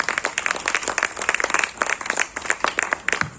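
A crowd claps together at an arts academy event, a lively burst of dense, overlapping handclaps that rises and dips in volume throughout.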